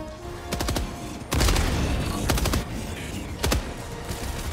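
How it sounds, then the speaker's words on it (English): Sniper rifle fire in the video game Helldivers 2: several sharp, loud shots ring out at uneven intervals, each followed by a short echoing tail, with a busy battle backdrop between them. "the sniper rifle did work"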